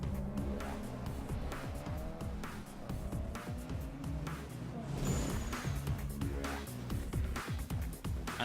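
Engine revving and tires squealing as a car drifts through a race in Need For Speed Underground 2, sustained loud motor roar with repeated gear shifts and screeching slides, no talk.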